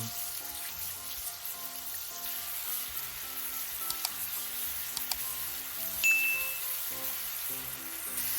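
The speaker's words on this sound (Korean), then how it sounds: "올리브 오일 5큰술 넣어주세요. 간마늘 2큰술, 넣어주세요. 마늘을 볶아주세요." Minced garlic sizzling in olive oil in a pan, a faint, steady crackling fry with light clinks of a utensil stirring and a brief metallic ding.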